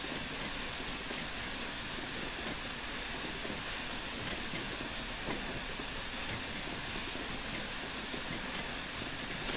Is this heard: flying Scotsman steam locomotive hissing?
yes